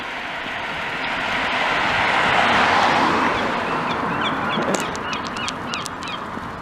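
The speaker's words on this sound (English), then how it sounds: "Little seagull there." A young seagull's sharp, repeated calls ring out near the end over steady rushing background noise on a Blackpool street, with a few brief high cries.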